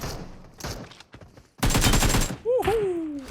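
A rapid burst of video game gunfire cracks out in a dense, sustained volley of shots, followed by sharp gliding electronic tones as brief speech fragments flicker around it.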